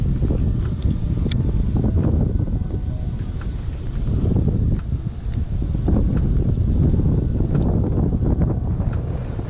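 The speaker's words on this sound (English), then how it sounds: "It's super windy outside, like 20," Strong wind buffets the microphone while bass fishing from a boat on choppy water, a loud, continuous, rumbling roar throughout with no speech.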